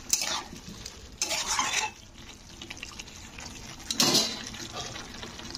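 Shingi fish being stir-fried with potatoes in a pan, giving three separate bursts of scraping and stirring with a faint sizzle in between.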